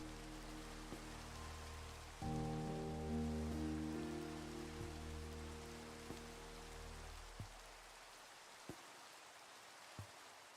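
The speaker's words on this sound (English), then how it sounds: "it is thunderstorming all of a sudden. Just got really dark and rainy." Steady rain hisses through a thunderstorm in a hardcore survival video game, with a droning in-game music tone over the first half and a few faint knocks later; no one speaks.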